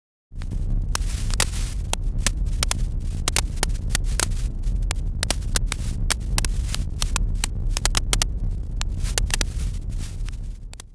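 Synthesized fire sound effect built in Pure Data and MaxMSP, a continuous low roaring rumble dotted with sharp crackles and pops at irregular intervals, starting abruptly and staying steady, no voices.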